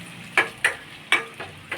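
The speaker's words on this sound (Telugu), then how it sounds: "పోపు కూడా వేగిపోయిందండి." Tempering spices sizzle in hot oil in a pan, punctuated by four sharp bursts as they are stirred, loud and close with no talking.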